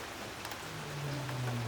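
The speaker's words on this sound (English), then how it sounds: "As I watched the rain in the streetlight, the lightning above the mountains" Steady rain falls at night during a storm in the Smoky Mountains, a continuous soft broadband hiss of drops on surfaces with a low hum underneath, fairly close and even throughout.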